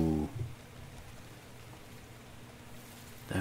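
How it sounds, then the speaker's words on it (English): Rain falls in the video game Ark: Survival Evolved Scorched Earth, a steady soft hiss of drops that carries on alone for a few seconds between brief bursts of other sound. "It's raining, everybody!"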